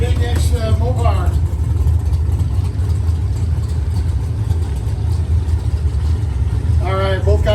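A big-inch Mopar drag racing car's engine rumbles loudly and continuously at a drag strip, a heavy low throb, while a voice talks over it at the start and end.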